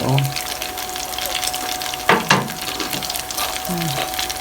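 Egg chips fry in a pan with a steady, close sizzle and bubbling crackle, while a person talks over it and utensils clink once or twice.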